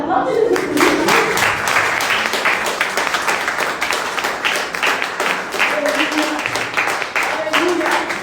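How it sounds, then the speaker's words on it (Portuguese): A church congregation claps together in quick, fairly even beats, loud and sustained, with voices carrying over the applause throughout. "aplauda Jesus por isso"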